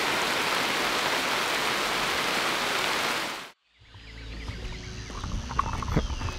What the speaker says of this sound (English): as you can hear, not so beautiful today. It's really raining cats and dogs.